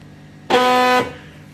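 A faulty Silhouette Cameo 3 cutting machine with something stuck in its roller system gives a loud, steady buzzing drone for about half a second, then stops abruptly.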